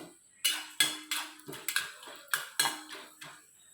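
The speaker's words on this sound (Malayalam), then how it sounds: "നമ്മൾ കടലപ്പരിപ്പ് ഇട്ട് കൊടുത്തിട്ടുണ്ട്" Chana dal is stirred as it fries in a pan for a coconut chutney, giving about ten sharp, close metallic scrapes and clinks in a loose rhythm with no speech.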